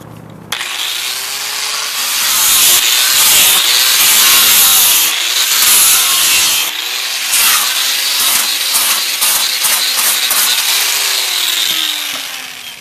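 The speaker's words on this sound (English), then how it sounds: "So give me a minute to finish sanding this" A wooden log is sanded with a power sander that runs loud and close for about twelve seconds, with a rough rasping grind that swells and eases as it moves over the wood.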